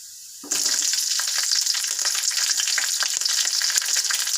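Green chillies hit hot oil as the tempering for brinjal gotsu, bursting into a loud, steady crackling sizzle right after a quiet start and holding dense and close for several seconds.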